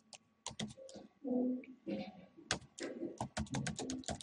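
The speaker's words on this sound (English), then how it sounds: "I will type the name of restaurant" Quick bursts of computer keyboard keystrokes come up close while a restaurant name is entered into HTML code, with spoken instructions between and over the clicks.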